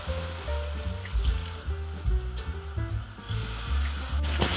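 Water is poured into a pot of browned beef and cooked-down onions for soup, a short gurgling splash over a low hiss from the stovetop.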